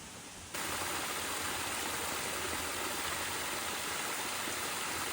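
Man-made waterfalls along Florida's Rainbow River, a constant hissing rush of falling water heard steadily and fairly softly, with no voices over it.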